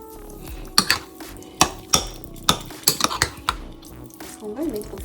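Spoon clinking and scraping against a bowl while oil is stirred into a breakfast mixture, a series of sharp close knocks in uneven rhythm, with a brief voice near the end.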